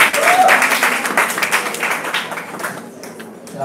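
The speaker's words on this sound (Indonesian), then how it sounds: "udah tepuk tangan untuk Kak Belinda" An audience at a livestreamed public discussion forum on renewable energy in the 2019 elections applauds a speaker. The clapping is brief and moderately loud and thins out over a few seconds.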